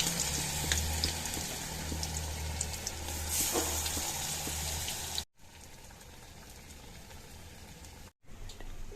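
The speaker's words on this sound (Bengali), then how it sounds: "আগে থেকে তেল গরম করে রেখেছিলাম, দিয়ে দিলাম বড়া।" Bok flower fritters (bora) sizzle steadily in hot oil, a dense crackling hiss that stays close and even, briefly cut off twice.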